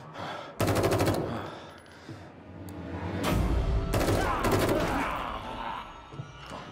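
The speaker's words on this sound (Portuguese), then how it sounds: "Atire até eles morrerem ou ficarmos sem munição." Automatic gunfire from The Evil Within 2 in loud, sustained bursts, with several rapid volleys separated by short gaps and heavy low booms mixed with game sounds.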